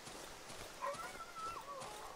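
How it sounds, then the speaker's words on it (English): A dog in the survival horror video game Darkwood gives a faint, drawn-out whining howl against a murky low ambient background, fairly distant and quiet. "I hear you, dog."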